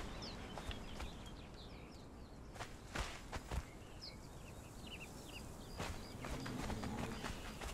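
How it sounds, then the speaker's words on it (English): Horse hooves clopping in the Conan Exiles video game, a steady run of soft footfalls at moderate distance with a few sharper thumps, over a continuous outdoor ambience with faint bird calls. "Horses."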